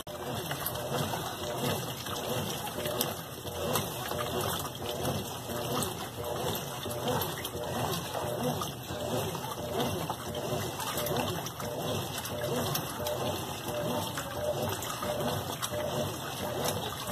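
Water rushes steadily into the drum of a Consul CWB12 washing machine as it fills, a constant even splashing hiss with no break for the whole stretch.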